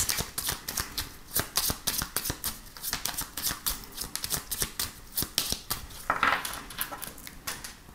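A 32-card deck shuffled for a card reading makes a rapid run of crisp riffles and flicks, close and even in rhythm throughout, with no talking.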